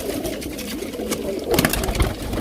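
Kasuri pigeons coo softly in a low repeated murmur at close range, with some rustling and background noise.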